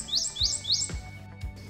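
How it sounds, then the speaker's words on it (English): Prothonotary warbler singing in a cypress, a few bright rising chirped phrases repeated in a quick series, close and clear over soft low background rumble and bumps. "Prothorynte warbler, right here in the cypress"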